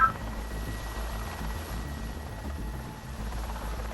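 A police helicopter thrums steadily over Honiara, Solomon Islands, its deep rotor beat and engine whine holding at a constant, fairly loud level with no voices.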